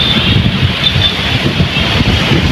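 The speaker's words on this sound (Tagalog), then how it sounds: "So windy." Strong wind blowing outdoors on a hot day, a continuous rushing roar buffeting the microphone with low rumble and steady hiss, no voices.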